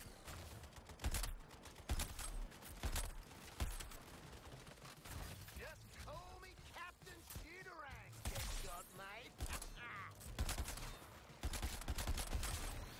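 Repeated sharp shots from a semi-automatic gun firing in a game, loud cracks in quick clusters, with a voice talking over the shooting in the middle stretch.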